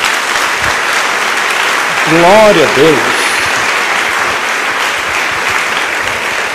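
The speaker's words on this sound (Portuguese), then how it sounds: "Dê uma salva de palmas ao Senhor" Church congregation clapping for the Lord in steady, broad applause that fills the whole stretch, with a voice calling out praise partway through.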